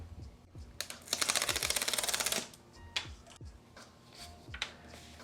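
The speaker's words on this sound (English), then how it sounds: "to open them, just pull on this simple tab right here" Beats Studio Pro headphones in sandstone colour, their recyclable paper packaging torn open by a pull tab, giving a burst of dense rapid crackling and ripping over about a second, then scattered soft paper rustles and taps nearby.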